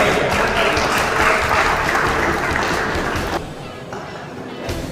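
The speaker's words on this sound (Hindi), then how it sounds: "सर तालियों में कंजूसी न करें।" Dense, steady applause from a crowd at a retirement party fills the whole stretch, easing slightly near the end.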